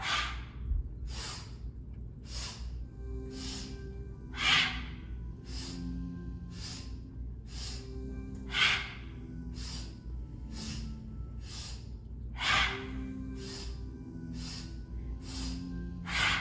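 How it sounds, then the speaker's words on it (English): Deep, rhythmic breaths drawn in and pushed out during a guided breathing exercise, steady repeated inhale-exhale cycles, fairly close and soft, with no talking over them. "Inhale, exhale, inhale, exhale."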